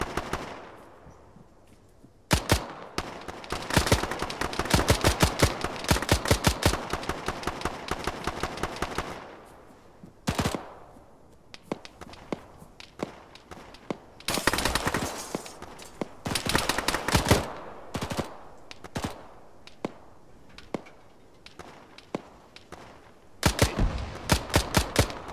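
Close gunfire in Arma, played with the ShackTac group: loud, rapid automatic bursts and single cracks keep coming over the whole stretch, broken by short pauses, with no talk.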